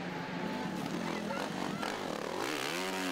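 Off-road racing motorcycles at a GNCC event at Steele Creek rev loudly through deep mud, engines droning and rising in pitch close by, with a commentator talking over the noise.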